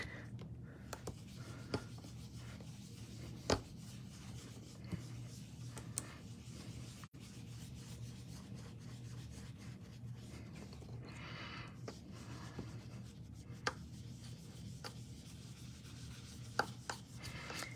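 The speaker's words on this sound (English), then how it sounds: "Remember to swirl gently on your scrap paper first and then move to your cardstock." An ink blending brush swirls on cardstock during card making, giving a faint, continuous soft rubbing and scratching with occasional light taps, close up and quiet throughout.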